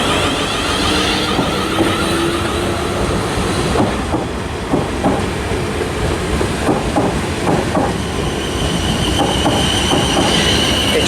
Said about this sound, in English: departing now is going to be the 1300 South Western Railway service from Weymouth to London Waterloo.